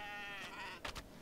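A baby goat bleats in the video game Kenshi, a short, thin cry heard faintly in the middle of a steady, noisy game soundscape.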